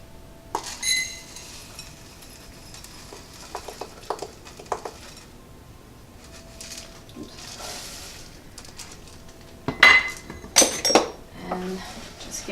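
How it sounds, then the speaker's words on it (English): Ingredients are whisked together in a bowl, with light scattered clinks and taps of a whisk against the bowl and a few louder metallic knocks. "Just gently whisk that together so it's all incorporated."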